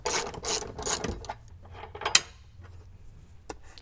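A ratchet wrench clicks out an 18mm bolt holding a bracket on a Jeep Wrangler, with bursts of quick ratcheting clicks followed by a few scattered metallic knocks, close and fairly quiet.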